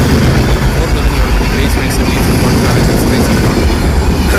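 A train rumbles loudly and steadily past a level crossing in Trivandrum, heading south to north, with wheel clatter and faint squeal close by and a voice partly under the noise.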